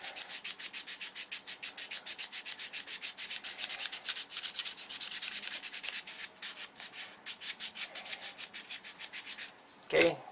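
Sandpaper of 220 grit rubs back and forth on a control line model plane, making a close, steady rhythm of scratchy strokes that continues for the whole stretch and ends with a brief thump.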